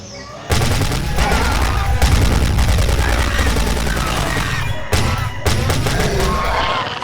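Fully automatic machine gun in the video game Dino Strike, held on the trigger in a long continuous burst that cuts off briefly after about four seconds and then resumes, loud and close with no talk.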